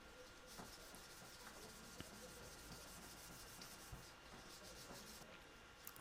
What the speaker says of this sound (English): Sanding along the grain here.